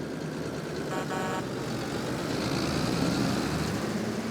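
A 525 tractor engine in Farming Simulator 22 drones steadily at a constant low rumble with a brief tonal beep near the start.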